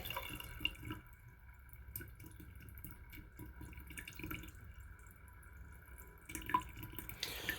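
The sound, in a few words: water running from opened faucet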